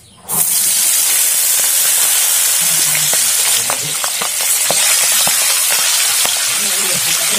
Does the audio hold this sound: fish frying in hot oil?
yes